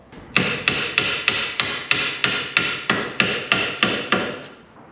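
A hammer drives a rear anti-lift bush into a VW Mk5 GTI, about fourteen loud, evenly spaced metallic blows ringing out one after another with no speech.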